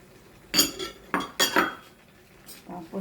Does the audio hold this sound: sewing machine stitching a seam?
no